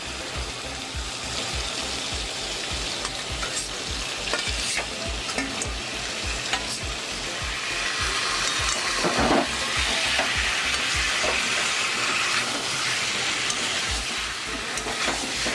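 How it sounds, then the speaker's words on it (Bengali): Chicken legs and giblets stir-fried in spices for a spicy Bengali-style curry crackle with a steady loud sizzle, overlaid by a regular rhythmic scraping of a spatula across the pan that runs throughout. "ভালো করে মশলার সঙ্গে নেড়ে নেবো।"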